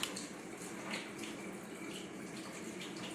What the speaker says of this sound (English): I'm going to pour my milk on ice.